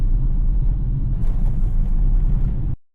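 Steady low road rumble and engine drone inside a CNG car cruising on a highway, loud and continuous before cutting off abruptly near the end.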